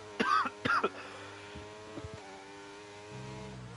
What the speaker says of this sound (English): Sorry, I had to cough there.